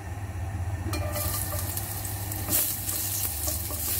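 Ginger slices hit hot oil in a pan for fish soup and set off a loud, steady sizzle. It swells after the first second and runs on close and continuous with no voices.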